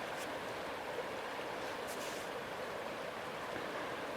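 A stream flows near a cabin building site in the woods: a steady, even rush of water at moderate distance, continuous and unbroken, with no voices.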